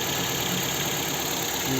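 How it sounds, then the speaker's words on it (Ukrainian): A 2007 Ford Fusion engine idling evenly, a steady, smooth mid-pitched hum with constant level and no stumbles or surges, heard close and alone without talk. "сам двигун працює рівно, немає ніяких подіргувань, посмикувань"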